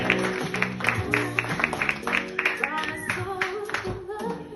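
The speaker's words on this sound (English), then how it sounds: "Please clap a hell of a lot for Evan Wunderlich." Applause from a comedy club crowd breaks out as the next comic is brought on, scattered rhythmic clapping mixed with stage music and room noise.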